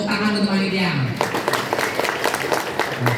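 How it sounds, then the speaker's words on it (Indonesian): An audience at an Islamic religious gathering breaks into applause for the organizing committee, a dense patter of many hands that swells after a spoken voice fades out and continues for a couple of seconds at moderate loudness. "Tepuk tangan untuk panitia."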